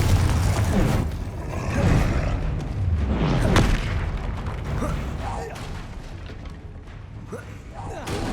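A Confringo fire-blasting spell explodes during a Hogwarts Legacy battle against a troll, giving one sharp booming burst midway through, set within continuous rumbling combat noise and game sounds.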